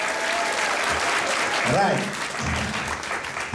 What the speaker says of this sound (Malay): tepukan gemuruh